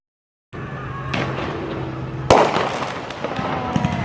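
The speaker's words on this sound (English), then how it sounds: "Looking at fireworks." Fireworks burst nearby after a moment of silence, with crackling pops and a louder bang midway, followed by scattered crackles.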